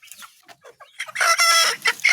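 A chicken with a swollen face clucks in short bursts, then lets out a loud, strained crow, close by and fairly loud.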